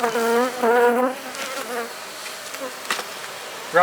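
Honeybees working on a hive frame, a close wavering buzz that rises and falls at first, then thins into a softer hum with a few sharp taps.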